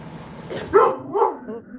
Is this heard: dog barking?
yes